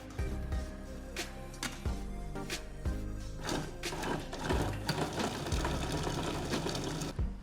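A handheld kitchen mixer chops meat into mince, a dense whirring motor with rhythmic knocking bursts as the machine jolts while held tightly, close and steady throughout, no speech.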